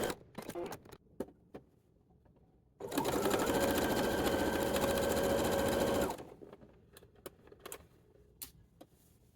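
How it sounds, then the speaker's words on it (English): A sewing machine runs for about three seconds in one steady, loud burst while stitching the lining of a babydoll summer dress, with quieter handling clicks before and after. "I am going to sew it with the lining, flip it over, sew the lining to the sides."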